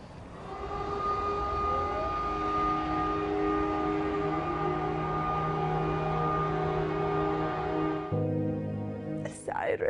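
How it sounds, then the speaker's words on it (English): Air raid sirens wail across a city during a tense wartime alert, a loud sustained rising-and-falling tone with layered harmonics that holds steady for about eight seconds before shifting pitch, with faint voices underneath. "Sirens all over cities."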